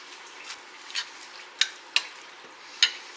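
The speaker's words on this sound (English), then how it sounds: "I'm going to stir in about 1/8 of a teaspoon of my tomato bouillon" Tomato bouillon is stirred into food cooking in liquid in a pan, heard as a soft close hiss with several distinct spoon taps and scrapes spaced irregularly.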